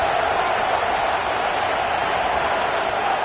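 A college football stadium crowd roars in a sustained, dense wall of noise during a big third-down play, loud and unbroken throughout.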